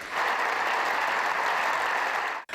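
A dense, continuous burst of applause from a large crowd during a speech by the Ukrainian president, loud and even throughout, cutting off abruptly at the end.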